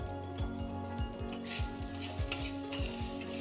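Ground turmeric and cumin fry with cooked ingredients for a paneer, potato and tomato curry, a soft sizzle under repeated spoon strokes scraping the pan, plus a low steady hum throughout.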